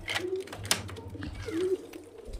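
Kalshira pigeons coo softly in a loft, a couple of short low calls close by amid faint rustling and background noise.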